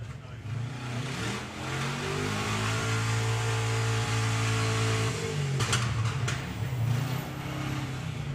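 A drag racing car at Bug Jam, a VW-focused drag meet, accelerates hard off the line in a loud, sustained engine roar that climbs through the gears over about five seconds, then fades behind crowd and track noise.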